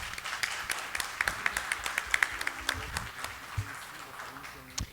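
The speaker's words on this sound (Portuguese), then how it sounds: "pode bater palma até os vereadores" Applause during a municipal council session honoring a family, a dense crowd of clapping hands with sharp individual claps standing out, steady and fairly close, mixed with room murmur.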